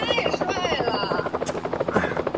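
A comedy skit's aircraft sound effect: a loud, rapid helicopter-like rotor chop and engine buzz pulses throughout, close and dominant, with voices partly under it.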